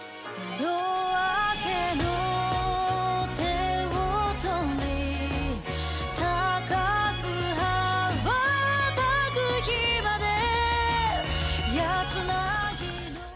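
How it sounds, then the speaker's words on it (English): Main theme music from the video game Fire Emblem Three Houses plays loud and continuous, a full orchestral arrangement with sustained melodic lines over steady low accompaniment and no voices. "First up here we have the main theme, which doesn't have a real title yet, or it's just a tentative title right now."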